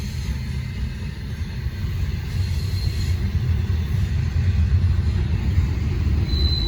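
A Norfolk Southern freight train hauled by EMD locomotives rolls past on the Charlotte District, a steady, loud low rumble that grows slightly heavier as it continues, with no voices.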